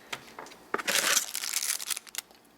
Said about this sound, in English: An empty plastic bag.